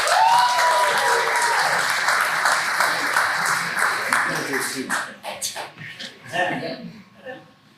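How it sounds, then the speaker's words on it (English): Audience applause and cheers fill a comedy graduation show, loud and dense at first, then thinning into scattered claps and laughter over the last few seconds, with voices calling out near the end. "Give him a round of applause to begin."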